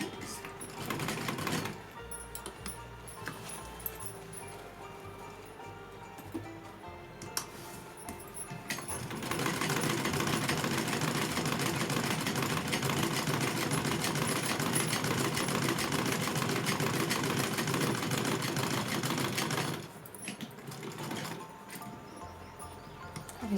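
Sewing machine stitching fabric for a small Laddu Gopal summer dress, a steady close mechanical whir with rapid needle rhythm running in two long bursts separated by brief quiet pauses.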